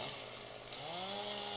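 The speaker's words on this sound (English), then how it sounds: "say I pull out my chainsaw and I come over here" In Farming Simulator 17, a chainsaw cuts a tree with a steady, droning engine buzz. The pitch dips briefly, then climbs and holds as the saw bites in. It is close and continuous, with no voices.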